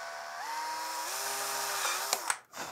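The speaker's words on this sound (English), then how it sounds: "I'm gonna drill the holes first." A power drill whines steadily while boring screw holes in a plastic toy prop, its pitch stepping up and down, ending with a couple of sharp clicks and a brief stop.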